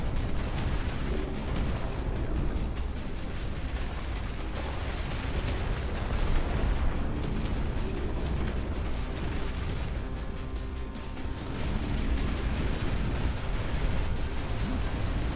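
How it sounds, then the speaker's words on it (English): Artillery barrage explosions in the real-time strategy game Dust Front RTS, a continuous heavy rumble of overlapping blasts and booms with no break and no voices. "Let's try directing the artillery."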